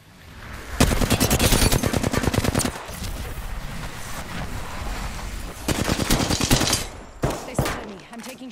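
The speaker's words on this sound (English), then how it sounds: "They spotted me. I'm taking shots." Incoming enemy gunfire strikes at a player in a video game, a long rapid burst of shots followed by a second volley and a few single cracks, loud and close with a low rumble between.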